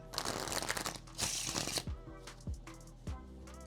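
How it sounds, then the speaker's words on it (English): Crisp rapid fluttering of playing cards being riffled together, followed by a few soft taps as the deck is squared, close and clear. "do our double undercut like this, and then add on our riffle shuffles."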